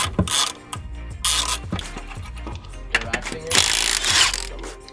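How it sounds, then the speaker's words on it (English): A hand ratchet clicks in rapid bursts while a clutch kit is fitted to a Polaris RZR, with busy mechanical clatter and tool noise close by in a workshop. "It is a ratchet."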